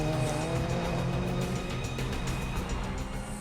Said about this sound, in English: These rally cars are competing in the Tour of Cumbria.